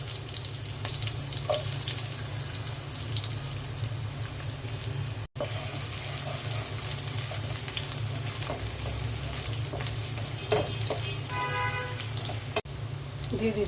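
Chopped onions fry in oil in a pot being readied for a water lily dish, giving a steady, loud sizzle throughout with occasional clinks of stirring.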